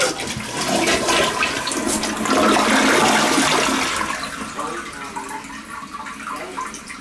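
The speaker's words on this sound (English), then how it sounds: "I'll flush it one more time." A toilet flushing in a home bathroom with a new gasket, handle sticking; a loud rushing surge of water builds for several seconds, then eases into softer refilling trickle, close by with no talk.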